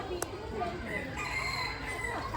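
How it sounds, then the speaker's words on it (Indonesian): A rooster crows outdoors, rising over a noisy, blurred background, clear but not very close, with no talk over it. "Wih, ada ayam tuh."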